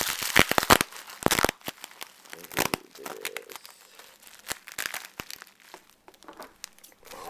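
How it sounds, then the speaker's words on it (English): A package from Japan being torn open by hand, with sharp bursts of crinkling and ripping plastic and paper coming in irregular close, loud spurts and quieter handling between them. "getting this packaging off is proving to be annoying"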